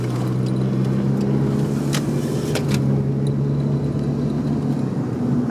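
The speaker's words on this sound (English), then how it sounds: "we'll show a little bit of driving in a residential area" A 2001 Saturn SC2 coupe fitted with adaptive hand controls, heard from inside while driving through a residential area: a steady low engine and road drone with a few faint clicks and rattles.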